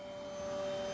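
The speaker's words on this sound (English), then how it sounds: "Here I release the vacuum cleaner and it begins to rotate slowly." Vacuum cleaner running aboard the International Space Station, a steady close whirring hum with a thin constant whine, rising slightly in loudness, no voices.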